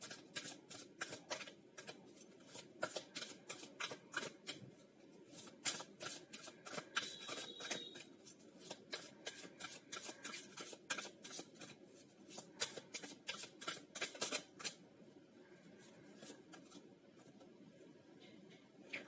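A tarot deck is hand-shuffled close up in quiet, rhythmic riffling bursts that continue for nearly twenty seconds without any voice.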